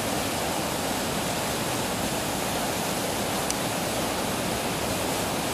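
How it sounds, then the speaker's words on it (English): The Tulameen River rushes far below a bridge, a dense, steady roar of whitewater that fills the whole clip without a break. "Tulameen River."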